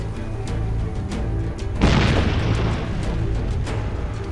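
A single heavy explosive detonation erupts in a military action scene, a loud deep boom with a rumbling tail that fades over a low steady background hum.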